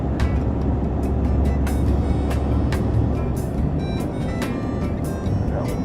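A manual-shift truck climbs a hill in gear with a loud, steady low engine drone, joined by rattles and intermittent clicks from inside the cab.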